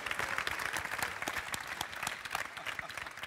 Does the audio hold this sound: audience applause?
yes